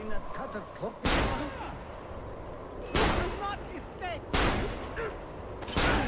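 Shots from a hidden gun in the video game Assassin's Creed Revelations crack out four times at irregular intervals, sharp loud blasts with decaying tails over a background of game voices.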